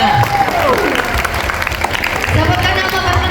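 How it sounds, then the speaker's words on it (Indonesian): Junior high students in a classroom clap for a classmate, a short burst of applause rising and fading, while a teacher's voice talks over it. "Kasih tepuk tangan dulu untuk temannya."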